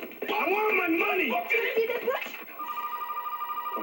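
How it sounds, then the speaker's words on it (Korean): Telephone ringing in a scene from the 2002 action film Hard Cash, a rapid pulsing electronic ring following a man's speech. "이때 전화 한 통이 울립니다."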